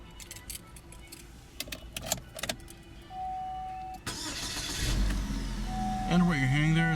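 Keys jangle and a 2017 GMC Terrain's 2.4-liter four-cylinder engine starts, then idles with a steady mid-pitched hum that rises slightly as it revs, close by.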